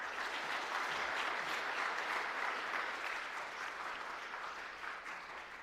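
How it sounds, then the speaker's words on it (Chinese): A church congregation applauds during a Sunday service, a dense, steady wash of clapping from many hands that holds for several seconds and eases slightly toward the end. "感谢神，这个掌声，我想，不只是为瑞萍姐妹的这个恢复感到开心鼓励之外，也把这个掌声归给我们的神。"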